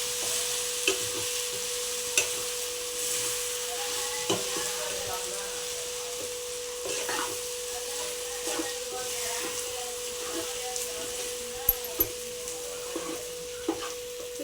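Eggplant fries in a pan with chili powder, coriander powder and turmeric, giving a steady sizzle throughout, broken by scattered clicks and scrapes as it is stirred, with a faint hum beneath.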